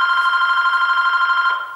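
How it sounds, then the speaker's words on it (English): A telephone rings indoors in a studio, one continuous electronic trill that holds steady, then fades at the end, loud and close with no talk over it. "I'm not going to answer that phone."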